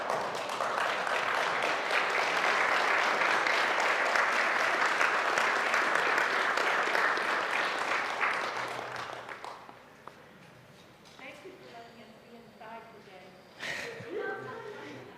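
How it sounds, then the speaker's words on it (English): Sustained, loud applause from an audience giving a standing ovation fills the room for about nine seconds, then fades out into quieter room noise with scattered claps and movement. "Please stand up and clap for what you have done."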